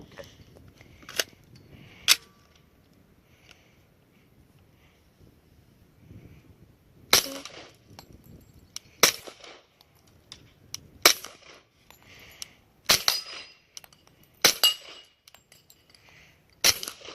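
Suppressed Glock 21 pistol firing powder-coated bullets: sharp, clipped cracks spaced a second or two apart, two early shots then a steadier string of about eight, with faint background between.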